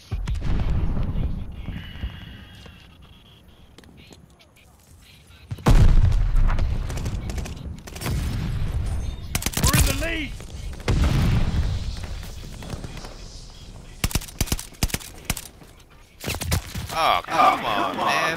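Gunfire and explosions in the video game Call of Duty: Vanguard, sharp loud bursts and booming impacts arriving in irregular clusters amid quieter gaps, with people talking over parts of the action.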